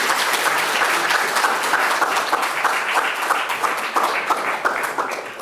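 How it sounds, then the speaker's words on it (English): Steady, fairly loud applause from an audience at a university thesis competition, many hands clapping together throughout with a slight fade at the end; no distinct whoops stand out. "I can hear your cheer squad whooping from here."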